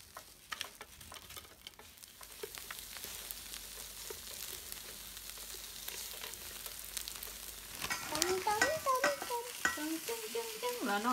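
Batter sprinkled into hot oil, frying into agetama crumbs for takoyaki: a steady close sizzle and crackle that swells louder and busier toward the end, with no voices.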